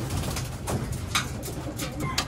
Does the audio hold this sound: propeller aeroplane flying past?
no